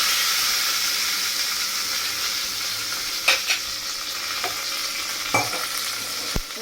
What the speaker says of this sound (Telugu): ఆల్రెడీ నేను కొంచెం కరివేపాకు కడిగి పెట్టేస్తున్నాను, అది కూడా వేసుకుంటున్నాను